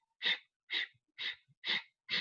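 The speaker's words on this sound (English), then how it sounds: "you can hear it's just breathing in and out through the nose very quickly" Kapalabhati yoga breathing: five quick, forceful exhalations through the nose, evenly spaced about half a second apart, close and clear with silence between each breath.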